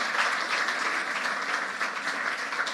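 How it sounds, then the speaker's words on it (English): Steady audience applause for the Delhi Capitals women's cricket team at a WPL team event, dense and sustained clapping from a large crowd with no talk over it. "Can we have a round of applause for them, please?"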